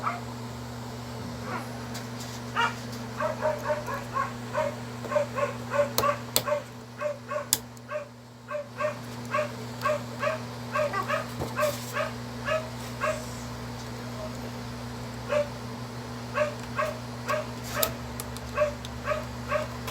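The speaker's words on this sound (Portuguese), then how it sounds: "Cachorro latindo pra caramba aí." A dog barks repeatedly in short yips and woofs at moderate distance, a steady rhythm of barks running throughout over a constant electrical hum.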